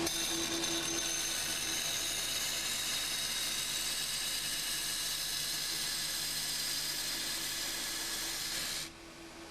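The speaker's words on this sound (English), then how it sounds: "push it against the grinding roller using the feed handle" A SCANTOOL 100/150RS pipe notcher's grinding roller working a 60 mm steel pipe, giving a loud, steady abrasive hiss that runs unbroken for about nine seconds before dropping away.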